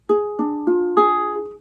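Four guitar notes plucked one after another at an even, slow pace, each ringing on and blending into a sustained chord, clear and close.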